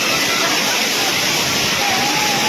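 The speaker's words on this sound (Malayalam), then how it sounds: "വൈഡായിട്ടുള്ള വെള്ളച്ചാട്ടം" Broad, steady roar of the Anayadikuthu waterfall at Thommankuthu, Kerala, crashing nearby, a dense unbroken wash of water noise filling the whole clip.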